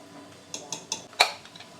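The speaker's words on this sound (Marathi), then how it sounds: "आता आपण कुकरला झाकण लावतोय" A pressure cooker lid is fitted and closed with a short series of sharp metallic clinks, building to one louder clank before a couple of lighter taps; no voices.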